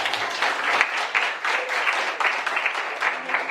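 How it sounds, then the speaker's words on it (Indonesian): Classroom applause after an ice-breaking game, a continuous ripple of many students clapping at a steady level, close and lively, with a few voices mixed in. "Tepuk tangan."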